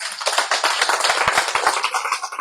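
A church congregation in Cuernavaca applauds in dense, continuous clapping that fills the room, with many overlapping hand claps at steady loudness throughout.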